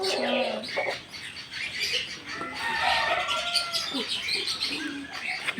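Birds at a farm, among them pigeons or doves and chickens, call and chirp close by in an irregular chorus of coos and tweets, with people talking over them.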